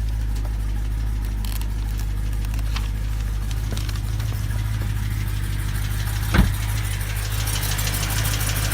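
A BMW E9X M3 engine with failing rod bearings runs at a steady, loud idle, its deep drone carrying faint repetitive ticking and one sharper knock partway through.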